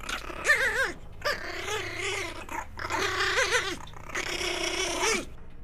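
Pomeranian dogs vocalise in several bursts, whiny growling yips and whimpers rising and falling close by, separated by short pauses.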